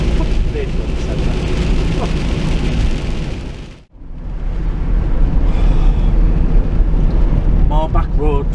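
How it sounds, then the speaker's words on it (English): Heavy rain drums on the roof of a 3.5-tonne courier van on a back road, a loud, continuous roar that briefly drops out before swelling back to full strength. "It's getting a bit loud in here with the rain"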